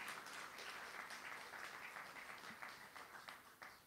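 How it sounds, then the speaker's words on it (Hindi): Audience applause filling a class hall, a dense continuous wash of many hands clapping, moderately distant and steady, with a few sharper claps near the end. "ताली बजाओ ना जरा"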